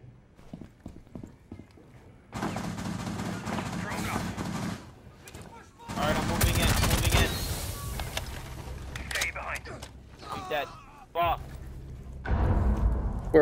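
Gunfire in Rainbow Six Siege comes as dense, rattling bursts of rapid shots in two longer stretches and a short final volley, mixed with clattering impacts and people talking.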